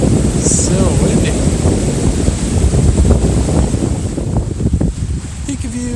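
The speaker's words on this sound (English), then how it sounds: "So windy." Strong wind roars and buffets the microphone throughout at an overlook on the Appalachian Trail, loud and continuous, with a low rumble and occasional gusts.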